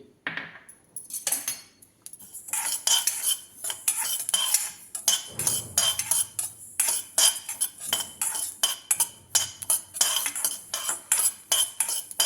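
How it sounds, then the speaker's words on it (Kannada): A spoon scrapes and clinks rhythmically against a pan while poppy seeds dry-roast for moong dal kheer, a quiet start followed by a busy run of close, repeated metallic stirring strokes. "1-2 ಸ್ಪೂನ್ ಗಸಗಸೆ ತೊಗೊಂಡಿದ್ನಲ್ಲ, ಅದನ್ನು ಹುರ್ಕೊತಾ ಇದ್ದೀನಿ."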